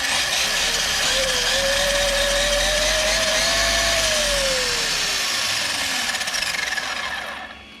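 Nomad DB8 RC car with a plastic spur gear, running up close: a steady whining drivetrain buzz with a tone that rises and falls gently, then fades out at the end.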